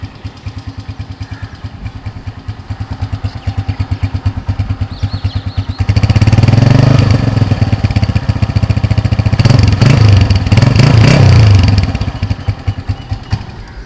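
Heavily modified Honda CG 125 motorcycle engine running loud and close, with a steady thumping idle that rises into a sustained throttle rev, then settles back to idle.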